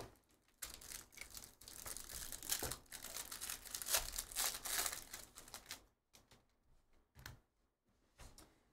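Crinkling foil wrapper of a 2023 Panini Absolute Football hobby pack being torn open, a loud dense burst of crackling for several seconds, then a few scattered rustles after a pause.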